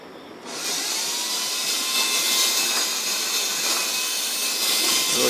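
An auger grinding fuel pellets in a feed system fitted with a light-sensor control switch, a steady loud mechanical whir and grind that starts abruptly and runs on continuously with no talking.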